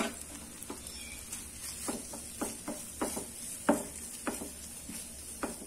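Mint and coriander are sautéed in a pan, a soft sizzle with repeated scraping stir strokes at a steady, unhurried rhythm, fairly quiet and close.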